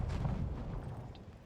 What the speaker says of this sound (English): There does seem to be more than a cannon shooting this.